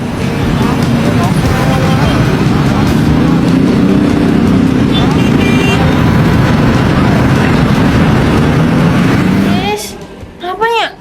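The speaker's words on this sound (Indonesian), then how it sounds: "Kawasan Demak Ijo itu berisik dan macet banget" Dense, loud road traffic roars steadily at the congested Demak Ijo intersection in Yogyakarta, a continuous rumble of engines close by that drops away near the end, with a voice speaking over it.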